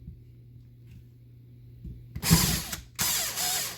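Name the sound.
drill bit run in reverse to unclog a hole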